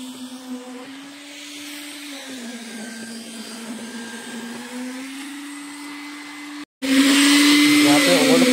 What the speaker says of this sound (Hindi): आपको इस तरीके से वाइब्रेटर जो है प्रॉपर चलवाना ज़रूरी है